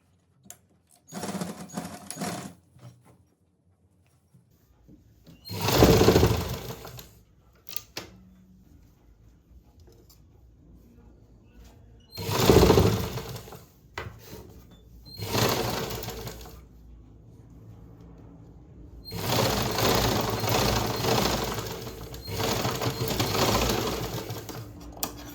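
A sewing machine stitching the side seam of a blouse runs in several separate bursts of rapid mechanical whirring, with quiet pauses between them and a longer stretch of stitching near the end.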